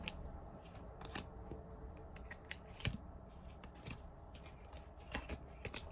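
Tarot cards are shuffled by hand in quick, uneven papery riffles and soft slaps, close and fairly quiet against a low room hum.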